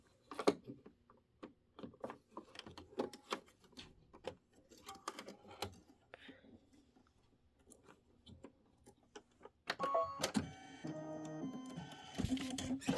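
A computerized embroidery machine stitches small leaf shapes onto quilt fabric with thyme-coloured thread, producing rapid irregular mechanical clicks and taps that turn into a denser, louder whirring run near the end.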